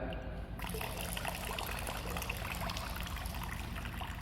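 Pool water being scooped into a chlorine test vial, a close, soft trickle and gurgle of filling water that continues steadily after a brief start.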